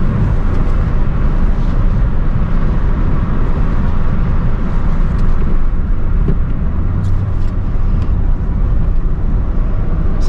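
Peugeot 206 car driving along a small country road in third gear at about 70 km/h, a steady engine and road drone with wind noise, continuous and fairly loud, no voices.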